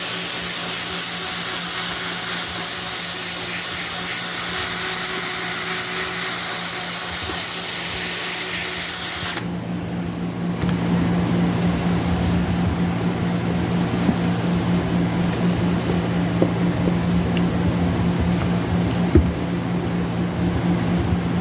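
A 3M Trizact 3000 grit disc wet-sands a yellowed headlight lens on a Chevrolet Silverado, a steady loud whirring drone of the power tool that shifts tone partway through and runs continuously without talk.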